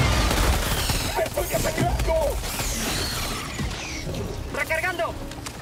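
Rapid bursts of gunfire in the video game Helldivers 2 crackle over a dense, noisy battle din, with voices shouting intermittently throughout.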